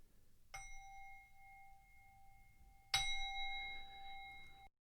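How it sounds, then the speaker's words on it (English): A meditation bell is struck twice, each strike a clear ringing tone that sustains and decays, with the second strike louder and ringing on alone until it is cut off. "the sound of a bell like this,"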